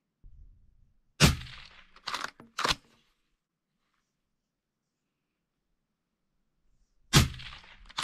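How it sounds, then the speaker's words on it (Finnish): Rifle shots fired one by one at a paper target on a shooting range while a scope is zeroed: three sharp, loud cracks in close succession, a long silence, then another crack near the end, with no talking. "tuli kolme ammuttua tuossa"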